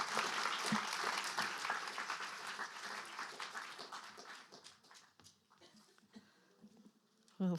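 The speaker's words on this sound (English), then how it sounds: "So now we can give her a very nice, warm round of applause to Lynn Julius." A seated audience at a Jewish refugee commemoration evening gives a warm round of applause for Lyn Julius, steady at first and thinning toward the end, with scattered claps trailing off.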